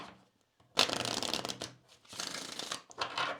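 Kipper fortune-telling cards shuffled by hand nearby: two sustained papery riffling runs, the first starting abruptly and lasting close to a second, then a pause and a second longer run, with no talking.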